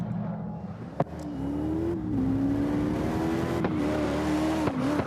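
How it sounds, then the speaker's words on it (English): A race car engine in a racing video game, heard from the drone camera view, holds a steady loud drone with a slowly rising pitch, and a few sharp clicks break through it. "Now, if I switch over and I go to Malte, you hear the volume on the car engine is about the same in the chase view, right?"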